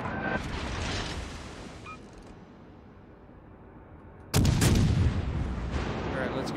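Heavy battleship guns fire high explosive shells in World of Warships Legends: a loud booming salvo opens, fades into a low rumble, then a second powerful blast erupts and rolls on.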